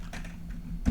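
Keys clatter on a computer keyboard as someone types a word, a few quick, close clicks ending in a louder keystroke, with no speech.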